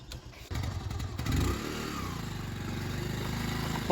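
Motorcycle engine starting after a short cranking sound, then running with a steady throbbing putter and a brief rev, close and moderately loud.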